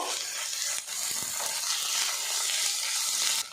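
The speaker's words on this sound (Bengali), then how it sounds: "আদা রসুন দিয়েছি একটু নাড়াচাড়া করে নেব" Ginger-garlic paste frying in a pan while being stirred, a steady broadband sizzle that runs throughout, with occasional soft scrapes and clinks from the spoon close by.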